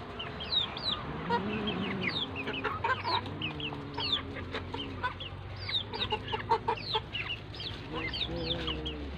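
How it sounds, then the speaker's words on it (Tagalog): Chickens cluck steadily at a home with many farm animals, with short rising calls repeating over a low hum and a few louder squawks close by. "Maraming manok po."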